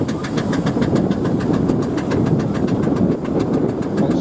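A steam traction engine chuffs steadily in rapid rhythmic beats at a vintage show, loud and close, with a mechanical clatter underneath and no voices.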